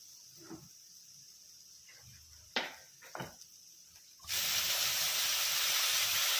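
Water poured into a hot pan of half-cooked quail bursts into a loud, sustained hiss of steam that fills the second half, after a few quieter clinks and scrapes of the pan.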